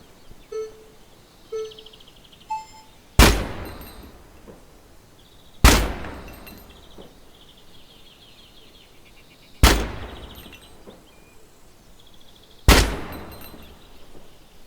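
Guns test-fired in the game Gunsmith Simulator, heard as four loud, sharp single shots spaced a few seconds apart, each with a short decaying tail, after a few faint clicks and small mechanical sounds.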